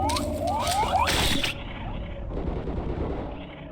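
Weapon fire in the video game Black Mesa, with a loud rapid burst of shots and mechanical clatter in the first second and a half, then quieter rumbling sounds from the game.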